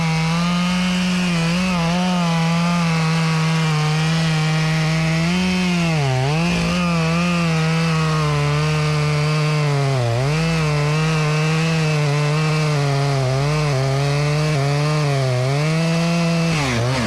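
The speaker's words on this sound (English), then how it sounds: "make sure I'm not torquing on the saw too much" A chainsaw cutting into a big cottonwood tree: a steady, loud, close engine whine that holds under load for the whole stretch, with brief dips in pitch as the cut bites.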